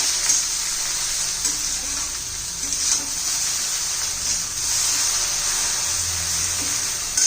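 Okra (bhindi) stir-fried in a pan for a masala dish, a steady broadband sizzle and hiss running throughout with occasional soft stirring scrapes, close and continuous with no speech.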